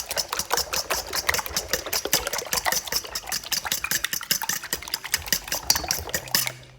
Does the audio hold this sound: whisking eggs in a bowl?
yes